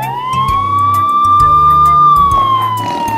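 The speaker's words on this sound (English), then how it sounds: "That siren's for you." A Paw Patrol toy microphone plays a police siren effect, a loud electronic wail holding steady and sweeping gently in pitch, alone and close up over a few seconds.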